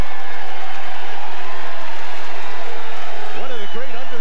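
Basketball arena crowd in Lincoln at a 1994 Nebraska college game against Michigan State, a dense, loud, sustained roar of cheering that stays constant throughout, with a voice briefly rising over it near the end.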